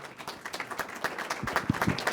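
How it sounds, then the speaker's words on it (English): An audience at a committee presentation on tribal and community ownership of Alaska education gives faint, scattered applause, with individual claps standing out from a quiet room. "can we all have a round of applause for all the great work you guys have done?"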